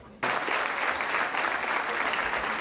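Applause at a university award ceremony for outstanding high school students breaks out abruptly after a brief quiet moment, then continues as a full, steady roar of clapping from a large audience.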